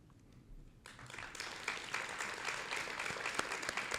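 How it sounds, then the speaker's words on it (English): Audience applause at a school district's State of the Schools event, starting from near quiet and swelling into sustained clapping from a crowd for several seconds, fairly distant in a large hall. "I was waiting on the applause for that one."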